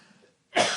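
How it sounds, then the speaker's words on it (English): A single harsh, loud cough bursts out close to the mic after a brief stretch of faint breath and quiet. "maybe you're just laughing at me coughing up a fucking lung here"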